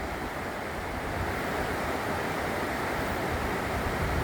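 Ingalls Creek rushes steadily in a constant broadband roar, close and loud throughout, with no voices.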